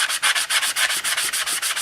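Hand sanding of a soft chrome-plated metal gas cap from an Opel GT, heard as a quick, regular series of rasping back-and-forth strokes, about seven per second, close and alone.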